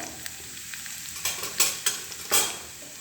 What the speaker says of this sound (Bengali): দেখো ফ্রাই হয়ে এসছে ওলকপি।